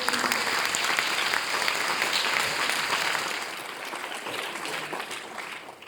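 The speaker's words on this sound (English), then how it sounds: "So big round of applause to all of you." Sustained audience applause for the judges at a school boys' Shakespeare competition awards ceremony, dense, even clapping filling a hall that eases slightly in the second half.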